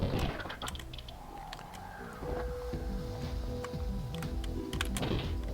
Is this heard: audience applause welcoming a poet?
no